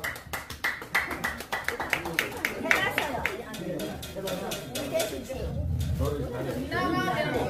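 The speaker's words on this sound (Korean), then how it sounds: "박수 주십시오" An audience at an autumn music concert by a Korean arts troupe claps in a quick, even rhythm for a singer being called up, then the clapping gives way to crowd murmur and talking.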